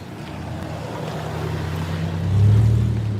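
A Toyota Tacoma pickup truck drives past outdoors, its low engine hum and road rumble swelling toward the end, with no talking.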